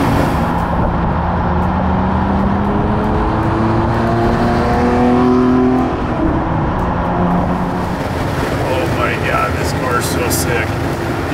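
A loud Porsche 964 flat-six engine roars and revs up steadily, then eases off as the exhaust note changes, with faint talk and wind near the end.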